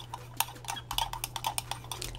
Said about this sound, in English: Mix it with your stirrer.